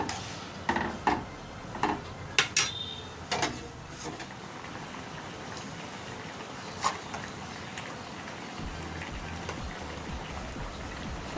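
Raw mango pieces are stirred in water in a pot, giving a few close wet sloshes and clunks at the start, then a softer watery wash that continues steadily.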